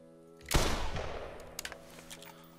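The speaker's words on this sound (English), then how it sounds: "I was taking way too quick shots there" A double barrel rifle fires one loud, sharp shot in the hunting video game theHunter Classic. Its boom rings out and decays over about a second, followed by a few faint mechanical clicks.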